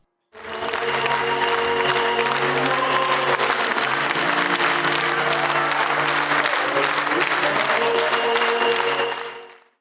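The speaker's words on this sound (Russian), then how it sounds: "Занавес, шквал аплодисментов" A theatre audience breaks into a storm of applause as the curtain falls on a premiere in Tskhinvali. Dense, sustained clapping starts abruptly, holds loud and full, then fades away, with faint tonal music underneath.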